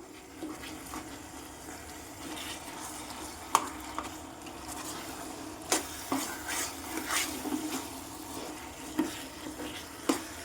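Bread pieces cook in a pan for bread halwa, giving a low steady sizzle with small scattered pops and crackles, soft and close, left alone without stirring and with no talking.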